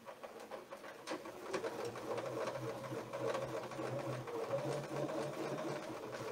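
A sewing machine stitches a quilt along a coil template, running as a continuous, fast mechanical whir and rattle close by at fairly even loudness.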